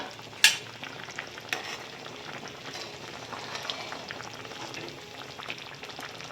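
Stirring horse gram paste into boiling water in a pot, with soft scraping and a steady bubbling sizzle underneath, opening with one sharp clink.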